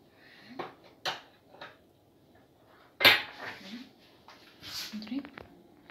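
Light clinks and clatters of a spoon and plate being handled while serving macaroni, with a sharper knock in the middle, heard close up and fairly quiet.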